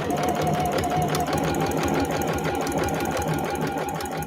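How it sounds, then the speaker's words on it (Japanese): Home sewing machine running steadily while stitching a French seam on a convenience-store-style eco bag, a close, continuous mechanical whir with rapid needle chatter and no talk over it. "なんか久しぶりだな、家庭用ミシンでここでこうやってる"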